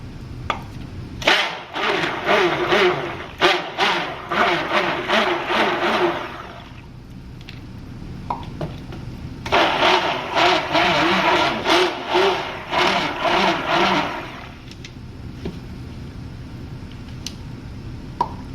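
A stick blender mixing clay-coloured soap whirs in two long bursts of several seconds each, separated by a quiet pause, with brief clicks around them.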